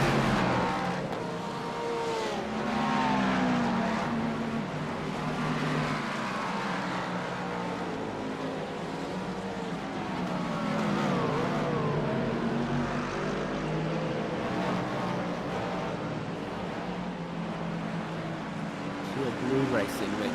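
Race cars in iRacing at Spa-Francorchamps, the Delta Sport and Frog Boat Juice Racing entries for the 7th and 8th class, howl past with engines rising and falling over steady commentary talk throughout.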